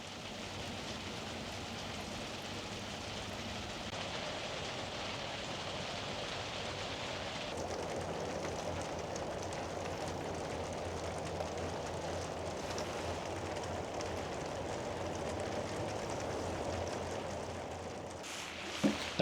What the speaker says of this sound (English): as you can see and hear, well, maybe you can't see it, but it's raining pretty good.